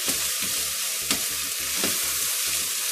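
Onions sizzle steadily in a hot pan, a constant frying hiss with a faint rhythmic pulsing underneath, and no voices.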